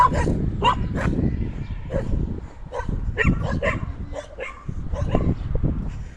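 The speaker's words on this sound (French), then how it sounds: "Les petits toutous, regardez, ils aboient" Small dogs kept in an enclosure bark at a passing runner during an outdoor training run: a quick, close string of sharp yaps and yips, repeated again and again over steady outdoor background noise.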